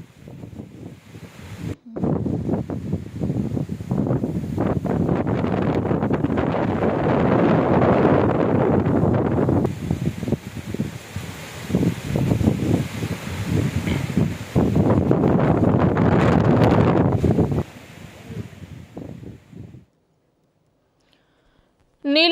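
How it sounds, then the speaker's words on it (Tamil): Strong wind roars with heavy rain near Avalanche in the Nilgiris district, a dense, loud, continuous rush that swells and eases for most of the clip before cutting to near silence at the end. "நீலகிரி மாவட்டம் அவலாஞ்சி அருகே பலத்த காற்றுடன் கனமழை பெய்தது"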